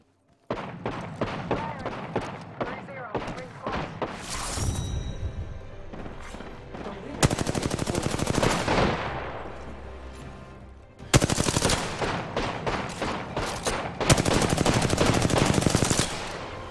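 Apex Legends gunfire rattles in rapid automatic bursts, loud and close, with several sustained strings of shots separated by short gaps and a faint voice now and then.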